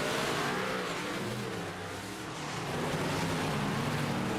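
A race car engine in a racing video game roars continuously at high revs, loud and steady, with a brief dip in pitch midway before climbing again.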